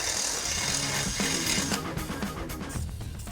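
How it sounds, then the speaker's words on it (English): A power drill whirs steadily, boring holes in a Jeep JK's metal mount, a continuous high grinding hum with slight variations in pitch as the bit cuts. "Then drill them out."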